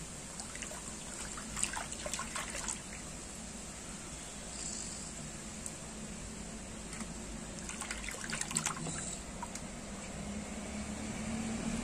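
Tap water runs steadily while squid is washed in a kitchen, a soft continuous trickle and splash with occasional light handling noises, fairly quiet throughout.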